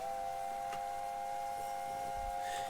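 An LNER A4 steam locomotive whistle in Train Simulator Classic: one steady, clear two-note chime held for nearly three seconds, loud and close, with no talking.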